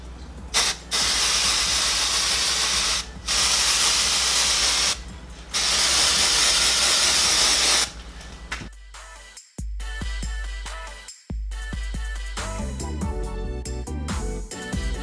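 L'Oreal Magic Root Cover Up aerosol sprayed onto natural hair clip-ins in three loud, hissing bursts of a few seconds each, followed by a run of close mechanical clicks and rattles.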